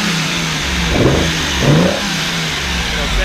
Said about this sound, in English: go ahead and rev it up now.